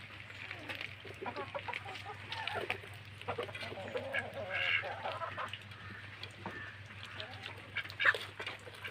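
Faint quacks and clucks from a duck and chickens at a backyard poultry coop over a low steady hum, with soft rustling throughout.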